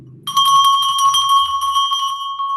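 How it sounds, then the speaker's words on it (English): A single bright bell rings loudly and close, its metallic tone sustaining and ringing out, after a brief murmur of low sound. "I think someone is ringing the bell."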